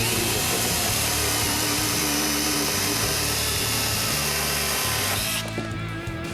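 A Worcraft CHS-S20LiB cordless mini chainsaw cuts through a 55 by 60 mm wooden block, its loud, close, high-pitched buzz running steadily for about five seconds before the chain winds down and stops.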